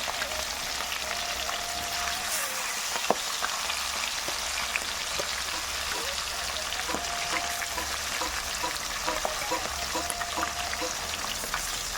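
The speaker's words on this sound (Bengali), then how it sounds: "এগুলো হালকা ভাজা করে নেব" Fish pieces fry lightly in hot oil in a rural village kitchen, producing a dense, even sizzle with constant fine pops and crackles that runs steadily throughout, no voices present.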